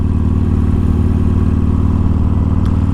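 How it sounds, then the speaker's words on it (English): Harley-Davidson Forty-Eight motorcycle with a high-flow exhaust idles and lugs at low revs, a loud, steady deep rumble with a continuous pulsing throb close to the microphone. "it's definitely a high flow exhaust"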